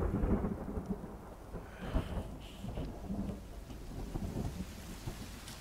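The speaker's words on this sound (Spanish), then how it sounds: "Está lloviendo más fuerte." Steady rain with low rumbling thunder rolling underneath in the video game The Forest, the storm swelling and easing in waves, no voices.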